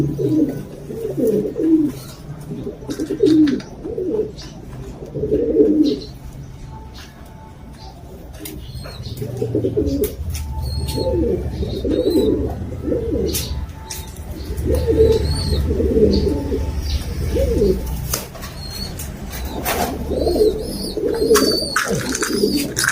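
Pigeons in a breeding loft coo in repeated bursts of low throaty calls, with brief wing flapping and faint chirps, fairly close and without talk.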